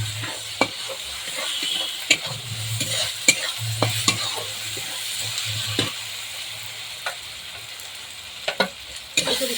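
Onions with garlic paste fry for biryani in a steady close sizzle, broken by frequent sharp scrapes and knocks of a spoon against the pot at irregular intervals.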